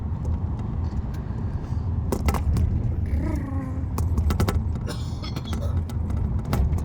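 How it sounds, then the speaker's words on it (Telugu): A car jolts and rattles as it drives a rough road past farm fields, a low steady engine rumble underneath sharp clattering knocks and shakes, with a few faint voices in the cabin. "మా కారు షేక్ అయిపోతుంది ఎక్కువ."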